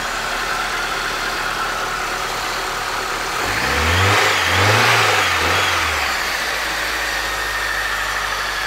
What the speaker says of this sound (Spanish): El motor está bastante bueno, no suena feo, pero pues sí está fallando.